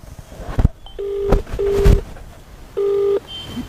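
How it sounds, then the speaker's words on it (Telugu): A handful of phone keypad tones beep one after another, short electronic blips with brief clicks and rustles between them. "ఫోన్ చేస్తున్నారండి"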